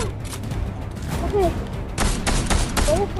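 Rapid volleys of gunfire in a video game crack in repeated loud bursts, with a few tonal chirps and faint voices mixed in.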